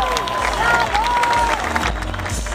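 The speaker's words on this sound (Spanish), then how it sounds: "Fuerte el aplauso para el pibe Valderrama." A crowd at a cycling race presentation in San Luis claps and cheers under an announcer's amplified voice, with whistles and a low rumble of background noise.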